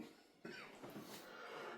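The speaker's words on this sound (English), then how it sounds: "So if you hear me coughing, that's on me" A single harsh cough from someone getting over a cold, close to the microphone, followed by a short rough throat-clearing burst in a quiet room.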